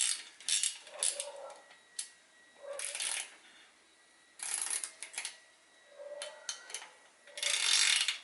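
Ratcheting tool clicks in short bursts while the bolts are tightened on a SRAM Red Crank Speed Aero bicycle crankset. The bursts are close and moderately loud, separated by brief pauses, with no talk.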